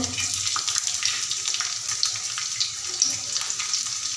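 Garlic cloves roasting in a pan with mustard seeds and cumin, a close crackling sizzle with small pops scattered through it, no talking.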